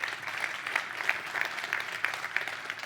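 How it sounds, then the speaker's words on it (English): Conference audience clapping for the organizers at a developer summit, a fairly faint, even patter of many hands continuing steadily, heard without anyone speaking. "So would you mind giving a round of applause to the organizers?"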